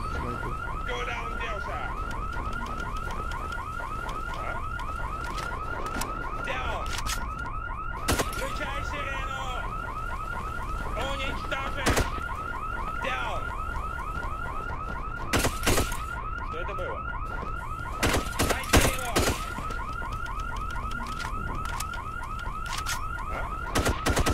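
A repeating electronic alarm in the video game IGI 2 wails steadily and fairly loudly throughout, with occasional sharp clicks and gunshot-like bangs over it.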